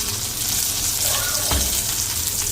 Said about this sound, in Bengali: আরেকটা আকর্ষণীয় জিনিস ভেজে নিচ্ছি, সেটা হচ্ছে নোনা ইলিশের বড়া